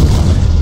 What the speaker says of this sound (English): And explosion!